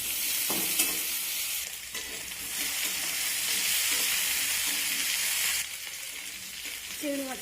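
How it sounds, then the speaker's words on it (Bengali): Shrimp and cut potatoes fry in a pan, giving a loud steady sizzle and hiss up close, broken by scraping stirs from a spatula throughout. "সমস্ত কেটে রাখা আলুগুলো দিয়ে দিয়েছি। এখন আমি নেড়েচেড়ে ভেজে নেব।"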